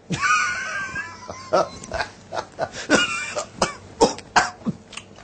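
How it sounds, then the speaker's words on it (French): A run of harsh, rattling smoker's coughs with throat clearing, repeated in uneven bursts, close and fairly loud, with wheezy breaths between them. "Une petite toux, le matin seulement."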